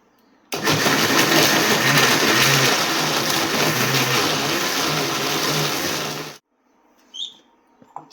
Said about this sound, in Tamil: இதுக்கு போன்லெஸ் சிக்கனை ஒரு ஜாரில் சேர்த்துக்கோங்க. இப்போ இதை அரைச்சி எடுத்துப்போம்.